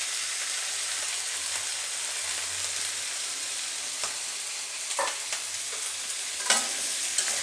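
Turmeric and chili powder fry in hot oil in a pan, giving a steady, dense sizzle with a few scraping stirs and clicks of a spatula near the end.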